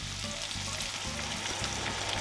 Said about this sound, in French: nous allons ajouter tout de suite l'eau chaude